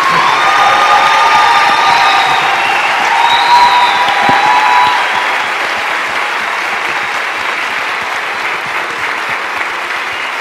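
Sustained applause from a school audience at a debate on electronic devices in museums, a dense wash of clapping with some cheering and children's shouts, loud at first and easing slightly toward the end.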